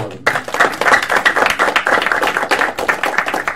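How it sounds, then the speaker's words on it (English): A crowd breaks into applause that starts suddenly and carries on steadily: many hands clapping at once, loud and close. "Another round of applause for the brother."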